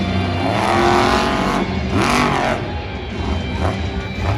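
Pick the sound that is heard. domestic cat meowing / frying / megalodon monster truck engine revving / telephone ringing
megalodon monster truck engine revving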